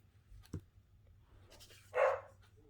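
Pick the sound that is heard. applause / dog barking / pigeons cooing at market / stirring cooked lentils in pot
dog barking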